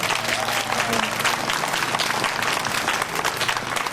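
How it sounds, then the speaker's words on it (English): Audience applause at a school event, a steady dense wash of many hands clapping at once, loud and continuous throughout, with faint voices mixed into the crowd. "A big round of applause to Mrs. McCallum"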